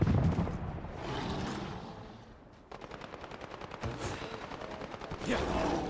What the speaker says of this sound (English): Opening fire. They're shooting at me.